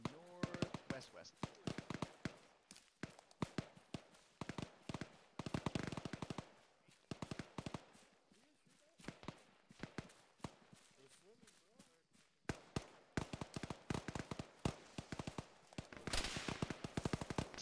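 Sporadic and sustained gunfire in the Arma military game during a ShackTac multiplayer session, with rapid bursts of sharp automatic shots and single cracks, some near and some distant, continuing through nearly the whole stretch while players talk over radio.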